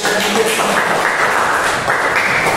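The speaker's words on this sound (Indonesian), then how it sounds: "Beri tepuk tangan buat teman-teman" Audience applause for fellow participants at an Indonesian teacher-training session, a steady wash of clapping that fills the whole stretch at a loud, even level.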